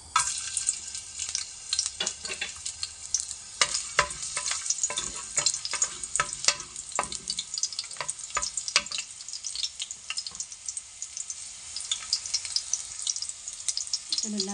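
Garlic dropped into a hot pan of cooking oil sizzles and crackles steadily, with sharp pops and stirring clatter scattered across the frying hiss.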